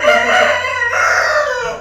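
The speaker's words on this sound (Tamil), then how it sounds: "கோழி கூது என்ன பண்ணுறது பண்ண முடியாது" A rooster crows once, loud and close, a long drawn-out cock-a-doodle-doo filling nearly two seconds with no talking over it.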